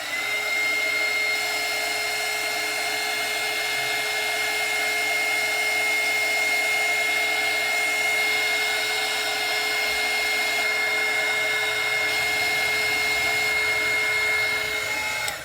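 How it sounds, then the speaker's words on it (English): A heat gun blows steadily and loudly for the whole stretch, a continuous airy whir with a fan hum beneath it, drying paint close up with no talking. "I'm telling you, I'm loving this heat gun."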